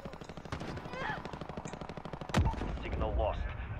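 Shotgun fire in a shooter video game such as Call of Duty: a sharp blast near the middle, with other gunfire and game sounds scattered through the clip, heard up close.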